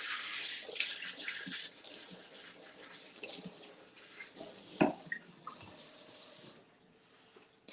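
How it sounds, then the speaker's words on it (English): Kitchen tap water runs over a sweet pepper as its seeds are rinsed out, a steady close splashing with knocks and shifts as the pepper is handled, then the flow cuts off near the end. "my pepper's got some seeds in it, so I'm just gonna rinse this out"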